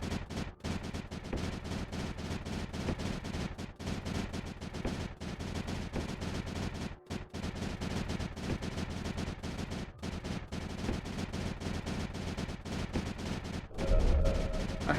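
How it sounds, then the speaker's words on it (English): Rapid, continuous volleys of cannon fire from a Creeper World 4 game, a relentless stream of sharp crackling blasts with brief gaps and a deeper thud near the end. "holy cow, is that cannon effective or what?"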